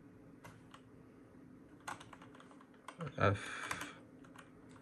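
Keys tap on a mini keyboard connected to a PS5, a few scattered close clicks and a brief flurry, with a voice speaking briefly.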